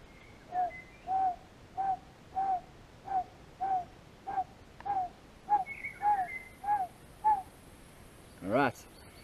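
Hand whistle blown through cupped, locked fingers imitates the Narina Trogon's call in South African forest, giving a steady series of about eleven soft hooting notes evenly spaced, then a final rising note blown with the mouth alone.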